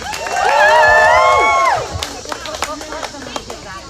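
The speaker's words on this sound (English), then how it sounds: "And one big cheer for everyone who brought an amazing sign tonight." Protest crowd cheering and clapping outdoors, a loud sustained roar with whoops for about two seconds, then fading into scattered claps, shouts and voices.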